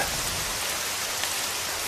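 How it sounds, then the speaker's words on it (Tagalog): Heavy rain pours steadily, a dense continuous hiss of drops hitting surfaces with no pauses. "lalong lumakas ang ulan at sinamahan pa ito ng malakas na tubig."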